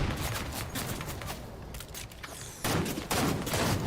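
Rapid bursts of shotgun gunfire in a video game, several loud blasts cracking out over continuous battle noise, with the heaviest shots coming near the end.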